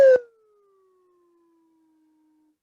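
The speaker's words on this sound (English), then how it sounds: "when you have a slide whistle" A whistle tone slides downward to a low pitch after a brief noisy start, then fades to a faint sustained note.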